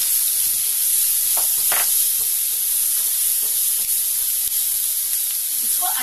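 Ginger, garlic and chilli fry in melted butter, giving a loud, steady, close sizzle with faint stirring taps underneath.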